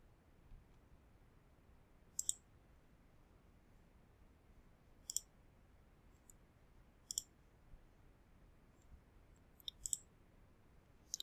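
Computer mouse clicks on a Windows 11 PC, about eight sharp isolated clicks spaced a second or more apart, close and crisp over a quiet hiss.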